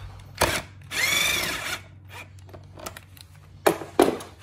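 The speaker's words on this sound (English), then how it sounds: "So start by taking a 7mm socket to loosen the clamp" A 7mm socket driver loosens an intercooler hose clamp on a Fiat 500 Abarth, giving a few short bursts of whirring rotation close by, with clicks and small metallic taps between them.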